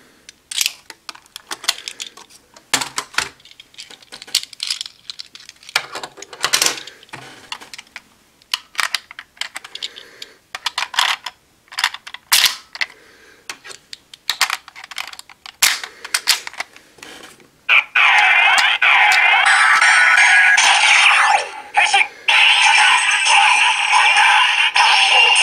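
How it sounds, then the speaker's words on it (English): CSM OOO Driver toy belt being handled as Kamen Rider OOO medals are inserted and scanned: a series of sharp plastic clicks and clacks, then a bright, loud electronic clanging transformation sound playing steadily to the end. "the clanging sound that is made when you scan the metals is a bit different than the normal one"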